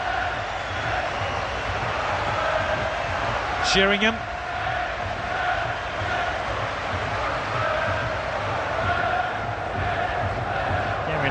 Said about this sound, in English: the applause you can hear now is for Nicky Butt